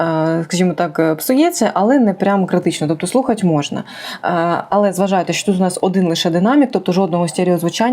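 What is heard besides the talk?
No everyday noises stand out.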